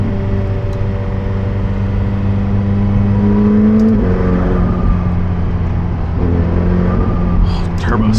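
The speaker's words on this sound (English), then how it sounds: "Turbo sounds so good too." McLaren 720S twin-turbo engine accelerating on a coastal highway, heard from inside the cabin as a steady loud drone rising in pitch, with a shift and renewed climb and some wind noise.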